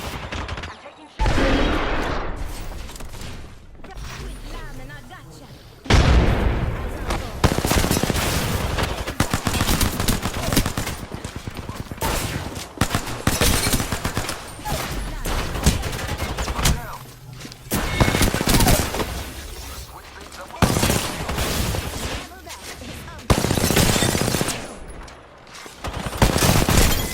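Bursts of automatic and single gunfire from the video game Apex Legends, loud and near, firing in repeated volleys through most of the stretch with short pauses, mixed with game effects and occasional voices.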